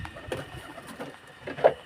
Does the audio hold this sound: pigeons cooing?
yes